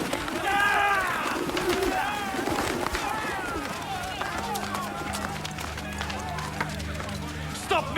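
Pigeons coo and flutter inside a crowded temple courtyard, their calls mixed with commotion, running footsteps, shouting voices and low background music.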